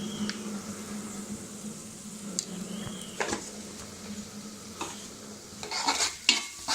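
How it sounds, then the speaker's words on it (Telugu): Food stirred and frying in a pan with chilli powder just added, a continuous sizzle broken by several sharp spatula scrapes and clinks against the pan near the end, no talking. "మొత్తం కొంచెం ఫ్రై అయ్యే వరకు ఫ్రై చేసుకుందాం."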